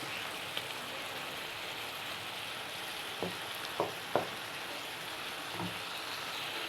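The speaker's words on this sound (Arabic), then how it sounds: "وبعد كده هنحط الفلفل بتاعنا ونقلبهم كويس" Peppers sizzling in a pan for stewed kebab, a steady frying hiss with a few short stirring knocks and scrapes partway through.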